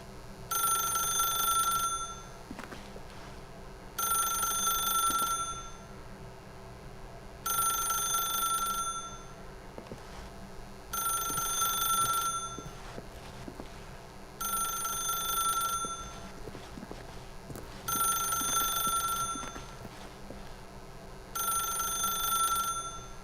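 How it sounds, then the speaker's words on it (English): A telephone rings repeatedly in the video game The Stanley Parable, seven regular bursts of bright bell-like tone separated by short pauses, loud and clear over a low steady hum with no talk. "If you can truly place your faith in another, then pick up the phone."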